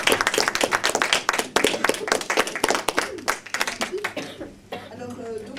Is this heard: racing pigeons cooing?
no